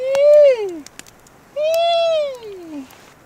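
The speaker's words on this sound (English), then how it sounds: "That I think was a bird." Two long, loud, clear descending calls in the woods, each a drawn-out falling cry with a short pause between, heard alone with faint clicks in the background.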